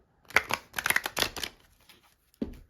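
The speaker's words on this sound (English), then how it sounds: "I'm going to shuffle these cards" Tarot cards being shuffled close by in a few quick riffling bursts, then a short pause and one more brief rustle.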